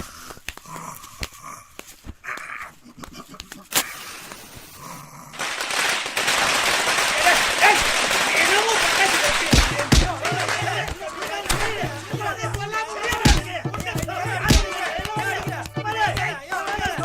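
Firecrackers burst in sharp irregular bangs, then a dense crackling barrage of rapid pops, with a few louder blasts following amid voices.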